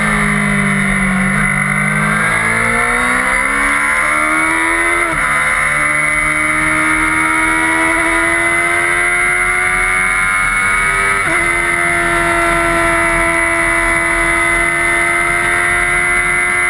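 Honda Fireblade road motorcycle accelerating hard up through the gears on the Silverstone race track, its engine note climbing and dropping with each loud shift before holding a sustained high-pitched scream at speed.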